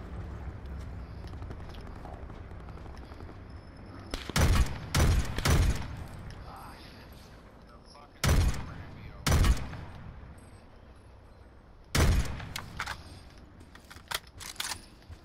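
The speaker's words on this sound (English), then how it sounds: "somebody else shooting at me" Another player fires at close range in a video game shooter: several short bursts of loud gunfire rattle out in clusters, separated by quieter background stretches.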